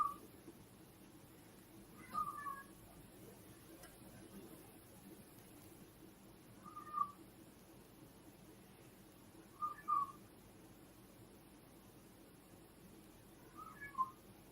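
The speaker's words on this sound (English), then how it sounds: "I have to deal with a cat who needs to outside" A house cat meowing to be let outside, several short plaintive meows spaced a few seconds apart, fairly faint in an otherwise quiet room.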